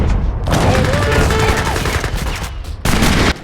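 Gatling guns fire in a real-time strategy battle with the United States faction, as dense, continuous rattling fire under the broader din of combat, cutting out briefly before another burst.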